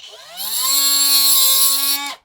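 Angle grinder spinning up to a steady high-pitched motorized whine with strong harmonics, held for about two seconds before cutting off abruptly; close and loud, with no talk.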